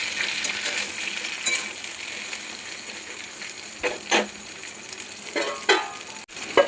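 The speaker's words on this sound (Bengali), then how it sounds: "দিয়ে পটলটা ভালোভাবে ভেজে নেব।" Pointed gourd pieces frying in a little oil with salt in a pan, giving a steady close sizzle broken by the scrape and clink of a stirring utensil.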